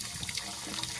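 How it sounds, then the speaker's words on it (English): Water rushing out of a tank being drained on a driveway cleaning job, a steady close splashing flow like a running tap, with no talk over it. "We're gonna drain this tank here."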